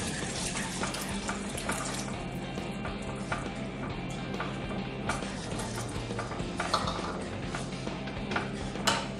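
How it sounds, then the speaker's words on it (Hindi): Water pours steadily into a pan of masala egg curry, a continuous splashing rush that stays even and close for several seconds with no talking. "पानी डालते हैं करी बनाने के लिए"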